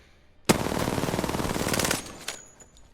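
R99 submachine gun from Apex Legends firing one long, very rapid sustained burst of about a second and a half, loud and close, then a couple of brief follow-up clatters and a fading tail.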